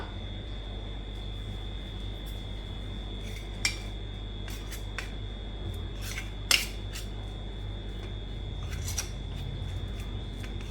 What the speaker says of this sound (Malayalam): ഇനി നമുക്ക് നന്നായിട്ടൊന്ന് മിക്സാക്കി എടുക്കാം